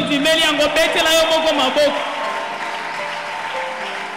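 A church congregation applauds and cheers during a worship service, a burst of crowd noise that rises after a loud voice at the start and carries on steadily to the end.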